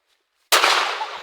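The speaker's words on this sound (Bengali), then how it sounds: "আপনাদের দেখার স্বার্থে আমি এখন গাছের উপরে থেকে ফোড়ামো বম" A firecracker set off from up in a tree for an Eid-ul-Fitr celebration bursts once with a sudden loud, close crack, then a broad hissing, crackling tail fades over about a second.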